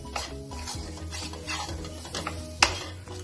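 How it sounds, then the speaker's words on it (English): A spoon scraping and stirring a cooking mixture with jeera powder in a pan, soft repeated strokes over a faint sizzle, with one sharper clink of utensil against metal near the end. "Then we will again cook this for 2 to 3 minutes. And we will mix it well."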